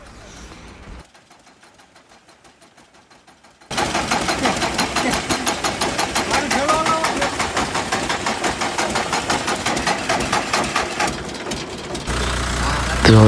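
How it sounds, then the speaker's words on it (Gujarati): A tractor engine, its battery just recharged, turns over and then idles and runs with a steady, rapid knocking chug, growing louder after a few seconds and staying close throughout. "તો હવે ટ્રેક્ટરની બેટરી ચડાવી દીધી ને ઉપડી ગઈ."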